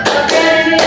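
In a classroom, a group of hands claps crisply for a counted beat, with a couple of sharp strikes close and loud and no voices on top.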